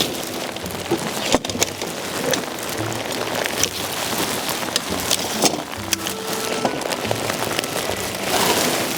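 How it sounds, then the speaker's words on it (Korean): Autumn rain patters steadily on a campsite, a dense close spatter of drops striking surfaces with a few sharper knocks, running unbroken without voices. "그냥 한번 비 오는데 해보자"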